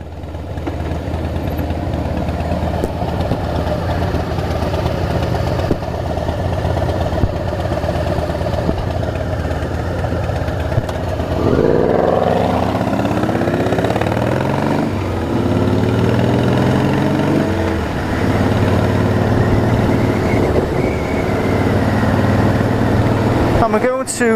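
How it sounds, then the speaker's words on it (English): A 2001 Honda VFR 800 fuel-injected motorcycle idles with a steady mid-pitched hum, blipped a couple of times to brief rising revs, while people talk over it outdoors. "Honda VFR 800 fuel injection, 2001. Nice bike, sounds nice as well."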